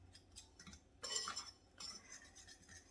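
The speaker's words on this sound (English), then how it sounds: "I'm just gonna take that strawberry fork and mix that all together" A fork scrapes and clinks against a bowl, mixing the dry ingredients for a strawberry cobbler, in quiet, uneven bursts with one louder stretch of rapid stirring near the middle.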